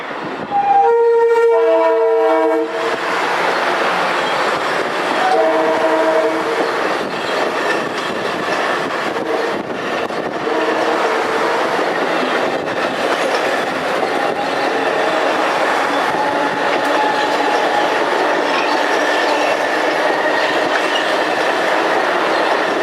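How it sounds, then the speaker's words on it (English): A Long Island Rail Road M3 electric train passing close by, opening with a loud multi-tone horn blast, then a sustained roar of wheels and clickety-clack on the rails as the cars rush past, with a second brief horn sounding partway through. "Those M3s are really throwing up sparks on the third rail here."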